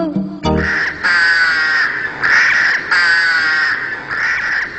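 A crow caws loudly and close by, about four long, harsh calls in a steady repeating rhythm, with nothing else heard.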